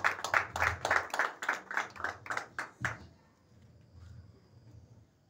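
A church congregation claps in a quick, steady rhythm of about a dozen sharp beats that stops abruptly, followed by quiet room tone with faint murmuring.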